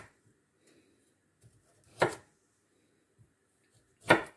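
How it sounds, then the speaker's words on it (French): Two sharp knife chops through carrots on a cutting board, spaced about two seconds apart, close and clear over near silence. "Et là, je vais couper mes carottes."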